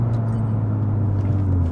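An Acura Integra Type S with an opened-up MBRP resonated exhaust runs with a loud, steady low engine drone and a faintly rising tone, close and continuous without speech.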